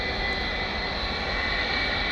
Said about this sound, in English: Only the best aircraft ever built, says TJ Danler.